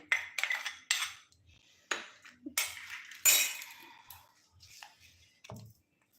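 Flour and cornflour for chicken satay being mixed in a bowl, heard as a series of close, sharp utensil clinks and scraping taps at an irregular pace with quiet gaps between them.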